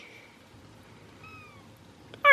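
Kittens meowing in a playpen, a faint drawn-out mew and a thin falling cry, followed by a sudden louder, close meow at the end.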